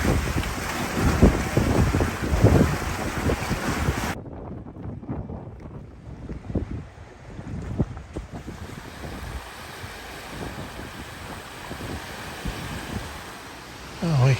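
Wind gusting past the microphone aboard a sailing catamaran in a southwest breeze, with waves and water rushing against the hull; loud and buffeting at first, then steadier and softer, with no talk.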